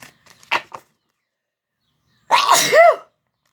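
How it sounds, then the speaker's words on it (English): A few quiet sniffs and a small intake of breath, then a single loud, abrupt allergy-season sneeze close to the listener. "Ooh, I'm going to sneeze."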